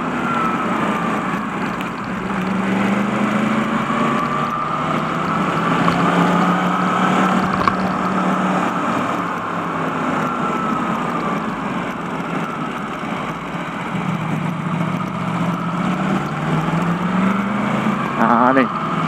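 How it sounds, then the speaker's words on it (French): A Yamaha MT-10 motorcycle accelerates from 2000 rpm, its engine note rising in a loud, continuous sweep that dips and climbs again, with a rider talking over it at times. "je suis à 2000 tours, j'accélère"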